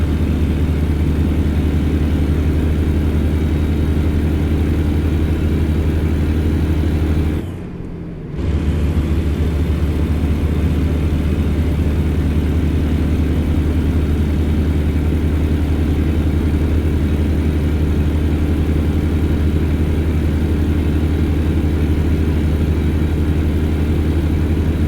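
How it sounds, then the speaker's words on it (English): A Caterpillar diesel engine in a heavy truck in American Truck Simulator cruising down a highway, a loud, steady low drone with a constant hum, broken by one brief dip in the middle. "listening to the Caterpillar engine purr as we go down the highway"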